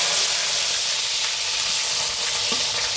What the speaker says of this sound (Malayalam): ചെറുതായിട്ട് അരിഞ്ഞു വെച്ചിരിക്കുന്ന ഇഞ്ചി വെളുത്തുള്ളി ഇട്ട് കൊടുക്കാം